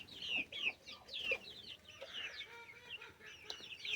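Hens in a backyard homestead pen cluck and chirp in quick, overlapping calls around their food bowls, moderately close and fairly quiet, with no voices present.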